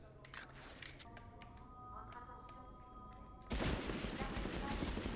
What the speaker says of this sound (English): now we're stuck with this lame-ass German submachine gun